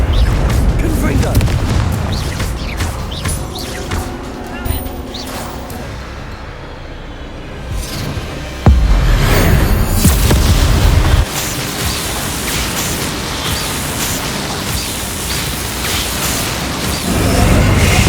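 A Confringo blasting spell from the Hogwarts Legacy video game erupts in loud, booming bursts, with a sharp blast midway over a dense rumbling roar amid ongoing game combat noise and voices.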